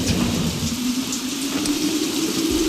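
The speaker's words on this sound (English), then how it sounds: "A little rainy outside." Rain falling outside, a steady hiss of drops on surfaces with a constant low hum beneath, continuous and fairly close with no speech.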